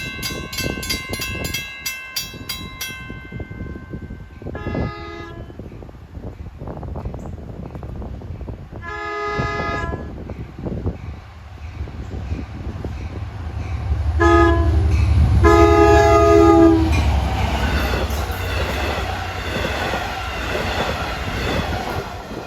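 A train horn blares in several long blasts as a DE30AC diesel locomotive approaches on the Montauk Branch, its engine rumble swelling loud and near with rail clatter.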